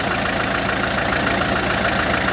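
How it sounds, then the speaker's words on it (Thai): A Toyota van's engine idles steadily and close, a continuous even rumble with a faint regular knock, loud and alone with no talking. "เดี๋ยวฟังเสียงเครื่องยนต์เนี่ย"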